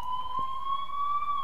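A steady electronic ambulance siren wails on a sustained tone with slowly rising pitch, loud and continuous with no speech.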